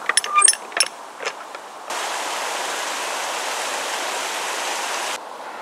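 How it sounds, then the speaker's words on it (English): Water rushes through the open ground paddle into a canal lock on a narrowboat trip, a steady loud roar lasting a few seconds after some earlier clanks and knocks, then dropping away. "I'm opening the ground paddle to let water in and fill the lock."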